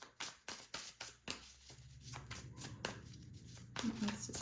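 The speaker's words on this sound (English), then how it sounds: "I shuffle until the cards pop out." Tarot cards shuffled close up, a run of crisp rhythmic slaps giving way to a continuous papery riffle, with quiet talk.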